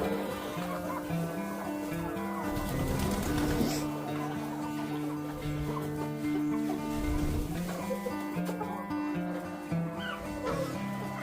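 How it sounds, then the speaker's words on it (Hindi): Chickens cluck and squawk inside a fogbound coop on a livestock farm, a busy, continuous chorus of overlapping calls at moderate loudness. "मुर्गियाँ अभी अंदर ही फिर रही हैं"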